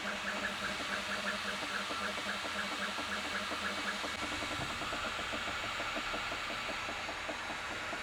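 Laser engraver working through a job, its head moving quickly at high travel speed and accelerating hard: a quiet, steady mechanical whir with a fast, regular ticking pulse running through it.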